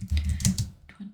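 Computer keyboard keys tapped in a quick, close burst of clicks, setting text in a Canva social media design, then a short pause and a few more keystrokes.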